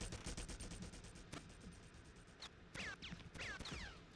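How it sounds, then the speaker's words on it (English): Enemy gunfire in the Red Faction shooter game, rapid repeated shots in bursts over a continuous din, with a few whistling zips of passing rounds toward the end. "they're shooting at us"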